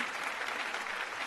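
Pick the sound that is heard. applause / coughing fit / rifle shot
applause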